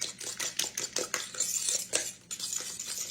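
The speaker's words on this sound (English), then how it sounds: "Now we're going to mix in 1 cup of sugar into this. Stir that around real good." A utensil stirs sugar into an egg custard mixture for pie in a bowl, with repeated close clinks and scrapes against the bowl in a steady, uneven rhythm and no talking.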